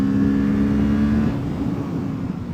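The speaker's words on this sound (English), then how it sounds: "I actually don't mind the sound of the parallel twin," A Kawasaki Ninja 650's 180-degree parallel-twin engine drones steadily while riding, then eases off slightly under rushing wind noise.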